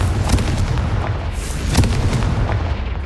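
Repeated booming blasts from the fiery Confringo spell in the Hogwarts Legacy game, with loud, low detonations over a continuous rumble and a few sharper cracks.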